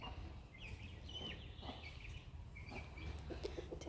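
Chickens cluck and call in short bursts over a steady, noisy outdoor background, fairly close and moderately loud.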